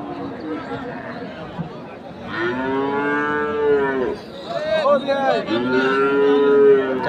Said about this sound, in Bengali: এটাও একটা কোয়ালিটি ফুল ফ্রিজিয়ান বকনা